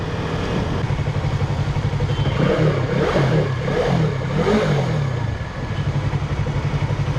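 A Yamaha YZF R3 motorcycle engine idles and revs steadily throughout, with a rising, throaty surge in the middle before settling back to a loud, close idle.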